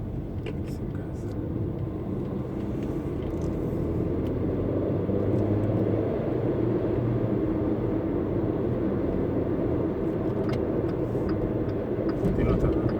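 Car engine rumbling steadily inside the cabin as the driver presses the gas, a continuous low drone that swells slightly, with a voice speaking over it.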